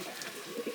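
A racing pigeon hen, mother of a one-loft race winner's loft-mate, gives soft low coos in a quiet loft, faint and close with a few murmuring pulses.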